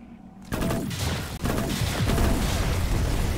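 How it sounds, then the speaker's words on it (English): Burst pistol from Remnant from the Ashes fired in the Swamps of Corsus, a loud, dense string of rapid shots after a brief quiet start, the bursts running together with a short break near the middle. "It's more like a burst pistol"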